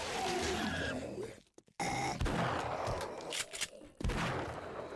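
Gunfire from a .44 gun in the video game 7 Days to Die, loud close bursts of shots with sharp breaks between them over a dense, noisy game background.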